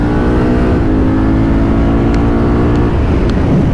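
A 2024 Honda Africa Twin Adventure Sports motorcycle accelerates on the Autobahn, engine pitch rising through a gear change amid heavy, loud wind rush close to the rider.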